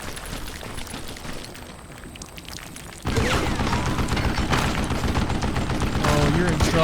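Gunfire in Call of Juarez: Gunslinger erupts after a quieter stretch, a dense, loud fusillade of shots that continues to the end.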